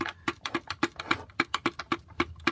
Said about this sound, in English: that noise is the flux gate compass inside